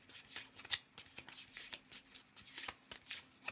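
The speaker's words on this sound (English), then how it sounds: "I'm going to shuffle off camera because I'm very bad at shuffling" Tarot cards are shuffled in quick bursts of riffling and flicking, close up and fairly quiet, with no talking.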